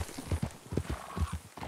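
Horses in Red Dead Redemption 2 clip-clop with an uneven rhythm of hoofbeats, close and fairly loud, along with a faint whinny and no talking.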